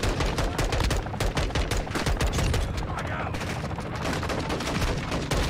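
Continuous rapid gunfire in Call of Duty: Modern Warfare, a dense unbroken stream of automatic shots aimed at passengers leaping from a helicopter, loud and sustained throughout with faint voices underneath.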